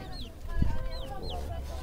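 Roosters clucking at a livestock market, short squawks and clucks over a dense background of crowd murmur and market bustle, with a brief thump partway through.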